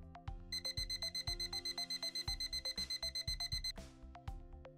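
A 4730 thermometer alarm rings with rapid, evenly pulsed electronic beeps, loud and continuous in a steady repeating rhythm, with faint background music tones.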